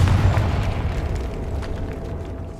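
A Confringo spell explodes in Hogwarts Legacy, a loud, sustained fiery blast with a deep rumbling body that rolls on and slowly fades over a few seconds.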